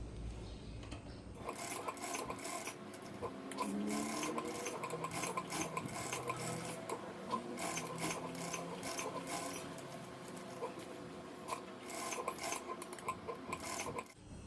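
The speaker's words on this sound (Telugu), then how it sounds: "ఈ షేప్ పైన నీట్గా స్టిచ్చింగ్ అనేది చేసేసుకుందాం" A sewing machine stitching cut work onto a blouse, a steady close mechanical whir with rapid needle chatter running continuously, briefly rising and settling in speed, with no talk.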